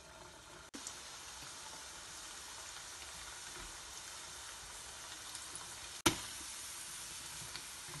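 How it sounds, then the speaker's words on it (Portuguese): Polvilho biscuits frying in hot fat give a steady, moderately quiet sizzle with a soft bubbling hiss throughout, broken by a couple of brief sharp clicks or knocks, with no voices. "Ó, minha gordura já tá no ponto aqui. Então, vamos fritando."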